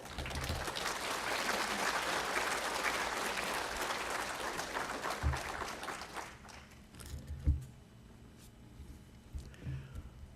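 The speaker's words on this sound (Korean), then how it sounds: "큰 박수로 환영해 주시기 바랍니다" A church congregation applauds during a Sunday service as the guest pastor comes forward, dense clapping for about six seconds that thins into scattered claps and a few louder knocks.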